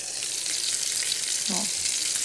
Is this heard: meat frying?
yes